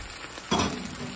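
Raw liver dropped into a hot frying pan, a sudden soft sizzle bursting up and then settling into a steady quiet hiss over about a second.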